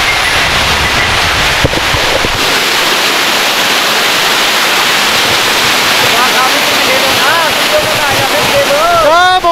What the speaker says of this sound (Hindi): सामने आपको ये झरना शायद दिखाई दे रहा होगा। वैसे इसका शोर जबरदस्त है।